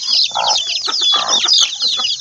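Free-range chickens clucking loudly and close by, a busy overlapping run of clucks and squawks from several birds with no talking.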